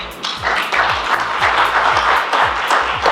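An audience applauds graduates at a women's skills development program graduation ceremony, a dense, loud, continuous wave of clapping with individual hand claps standing out close by.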